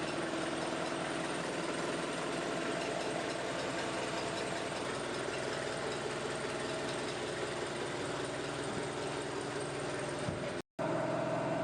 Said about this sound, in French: vous donner une idée du bruit du moteur en navigation